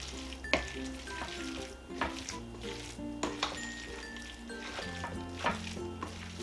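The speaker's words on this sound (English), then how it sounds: "Give that a nice stir." A spoon is stirred through chicken salad with chopped pecans in a bowl, making soft, wet, squishy scraping strokes at an uneven pace. Faint tonal background music plays under the stirring, and no one speaks.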